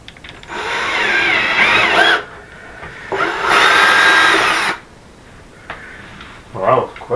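A power drill whines in two long bursts with pauses between, close up and loud, followed by a short final burst.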